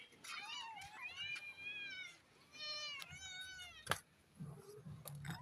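A cat meows repeatedly in a series of rising and falling cries, close and fairly loud, during outdoor sweeping of a yard before the cat is fed; a sharp knock briefly interrupts.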